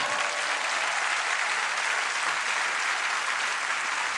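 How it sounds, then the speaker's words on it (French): Audience applause at the Olympia comedy venue: a loud, even wash of clapping from a large crowd, sustained without a break and with no voices on top. "C'est gentil d'applaudir"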